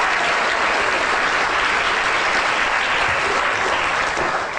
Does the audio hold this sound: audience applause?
yes